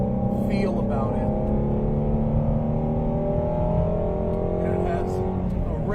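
A sports car engine revs hard toward an 8,250 RPM redline, a loud, rising howl with layered harmonic tones climbing steadily, up close and running continuously.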